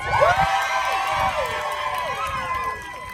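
Rally crowd cheering and shouting, with high whoops and children's voices rising and falling over a steady roar for about three seconds.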